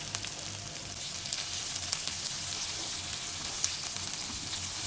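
Onion, garlic and tomato sautéing in a pan for Filipino ginisang ampalaya, a steady bright sizzle with small crackles and a few faint stirring taps, close and continuous.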